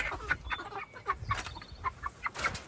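A chicken clucks in short, repeated bursts, moderately close, with soft rustling in the background and no talking.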